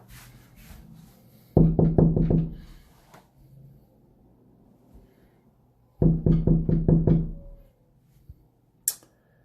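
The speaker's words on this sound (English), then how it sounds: "we'll knock on the door" Two quick bursts of knocking on a bathroom door, each a rapid series of about six sharp, loud raps, separated by a few seconds of quiet room tone.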